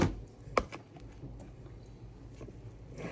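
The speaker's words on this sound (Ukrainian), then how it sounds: "Кипіла, але можна вже кидати картоплю." Potatoes dropped into a pot of boiling water, giving a couple of sharp close splashes near the start, then a soft bubbling and sloshing that keeps on faintly.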